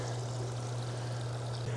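Water runs steadily from a garden hose into a filling hot tub, a continuous soft pouring and trickling at low level with a steady hum beneath, no voices.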